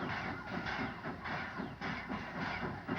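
Steam locomotive 4185 backs up to its train at Colfax station after taking on water, giving a steady, loud rumble with rhythmic chuffing and clanking rail noise, plus a hiss of steam.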